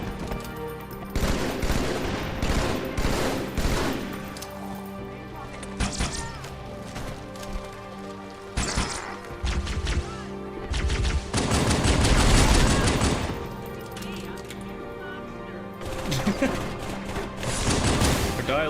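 Dense gunfire in Halo 2 rattles in repeated bursts and rapid volleys, with sharp impacts and crashes mixed in, loud and close, punctuated by brief lulls across the stretch.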